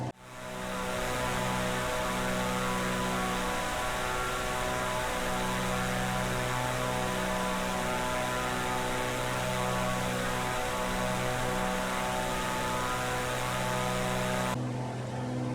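Steady droning aircraft engine at full power during a climb in Microsoft Flight Simulator 2024, a loud continuous hum with tonal harmonics running throughout, no talking, with a sudden shift in tone near the end.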